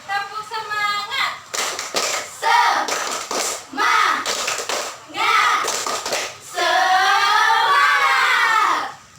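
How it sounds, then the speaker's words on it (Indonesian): Schoolchildren in a classroom lesson doing a rhythmic Indonesian clap-and-chant routine, bursts of patterned clapping alternating with a teacher and children calling out in unison, ending in a long sustained group shout. "kita tepuk semangat dulu yuk"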